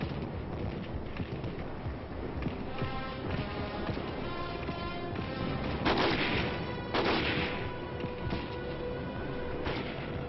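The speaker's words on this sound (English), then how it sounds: "While tanks and machine gun crews lay down a blanket of fire to keep the enemy pinned down" Dense, continuous battlefield gunfire from tanks and machine gun crews laying down suppressing fire, with heavier booming blasts near the middle, heard through old narrow-band film sound.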